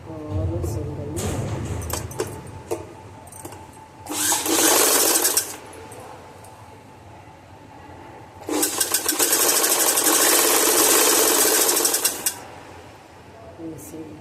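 A sewing machine stitches a folded fabric button strip in two loud, rapid bursts, a short run and then a longer one, with quieter handling noises and some talk between them.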